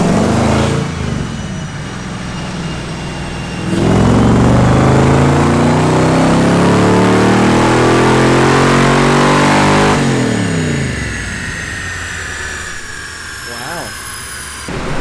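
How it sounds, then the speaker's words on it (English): Stock LS1 V8 swapped into a Nissan Z32 on a dyno, revving hard through a full pull with a rising harmonic engine roar that peaks mid-run and then drops to idle, loud and close. "let's gonna do one final pull on it just to end the day"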